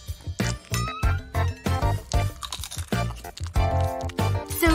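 Crunchy Kit Kat chocolate bar bitten and chewed up close, a rapid series of loud crisp crunches in uneven bursts with no talking.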